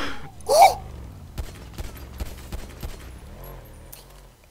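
Gunfire in FiveM, the GTA V multiplayer game: a brief burst of shots with a sharp tonal sweep near the start, then a series of spaced single shots, close and punchy over a quiet game background without talk.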